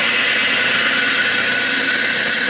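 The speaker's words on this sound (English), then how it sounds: "until I feel my drill hit the bottom of the hole" A steady high-pitched machining whine and grind, continuous and loud, as a 15/32 drill bit bores into metal on a spinning lathe.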